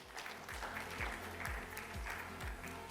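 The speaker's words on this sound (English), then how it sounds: "please don't stop clapping for him" An audience in a Mumbai conference hall claps after a speaker finishes, a steady close patter of many hands with a low rhythmic thumping running underneath, no voices.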